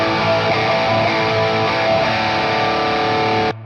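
Electric guitar through a Kingdom Drive overdrive pedal on its cleanish side, played via an IK Multimedia Tonex pedal: a dense sustained chord with a mild gritty edge, loud and steady, then cut off abruptly.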